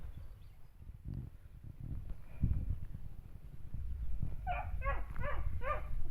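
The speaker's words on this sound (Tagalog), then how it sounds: "Maingay na naman ang aming mga aso." Several dogs bark in quick repeated bursts toward the end, over steady outdoor background noise in a hot-weather garden of bottle gourd vines.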